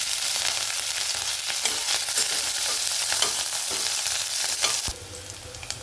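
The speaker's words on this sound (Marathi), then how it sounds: "जिरे मोहरी टाकली आता आपण हिरवी मिरची टाकू" Green chilies fry in hot oil with cumin and mustard seeds, giving a loud, dense, continuous sizzle with scattered spits and a stirring clatter near the end, when the hiss drops slightly.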